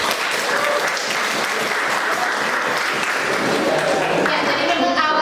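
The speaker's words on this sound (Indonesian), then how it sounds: "Tepuk tangan dulu untuk saya." Students in a biology class clapping together, loud and dense continuous applause close by, with voices mixed in beneath it.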